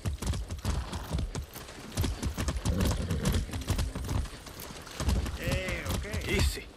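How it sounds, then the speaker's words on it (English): Horse hooves clip-clop in a steady rhythm while riding in the video game Far Cry 6, with game sounds, a brief whinny and some voices mixed over the hoofbeats. "can we ride this horse? Yes, we can."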